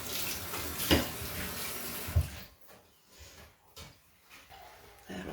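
Water running from a kitchen tap while an ingredient is rinsed, a steady, close splashing stream with a couple of louder splashes, then cut off and followed by faint handling noises.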